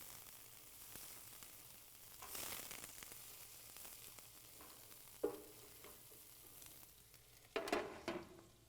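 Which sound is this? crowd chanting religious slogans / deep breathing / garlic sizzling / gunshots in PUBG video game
garlic sizzling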